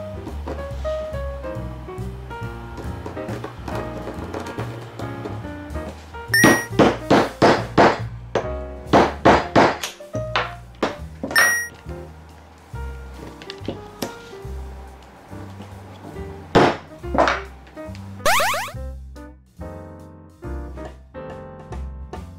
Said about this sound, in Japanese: とりあえずこっちも同じようにね、穴を開けていこうと思います。